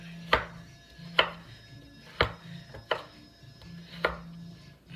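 A knife chops through a pumpkin on a board in five sharp, evenly spaced thuds about a second apart, close and clear with no talking.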